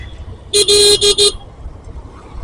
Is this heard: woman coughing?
no